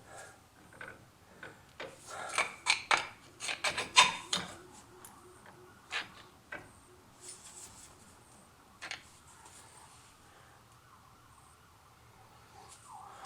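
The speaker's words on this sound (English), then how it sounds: "pry this here to push the piston back, the brake piston, so it'll be easier to take off the calipers." Prying tool working on the brake caliper piston of a 1999 Jeep WJ during a Teves to Akebono brake swap, with a burst of scraping and rubbing clicks, then sparser metallic knocks and rasps that fade out.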